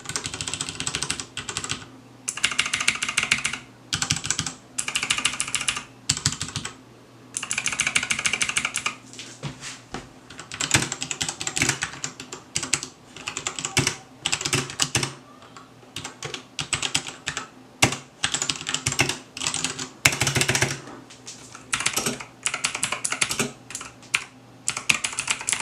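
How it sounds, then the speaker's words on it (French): Typing bursts on an Aukey KM-G12 mechanical keyboard, first with blue switches and then with brown switches, giving dense runs of close, crisp key clicks separated by short pauses, with no voices. "voici une petite comparaison du bruit entre les switches bleus du clavier"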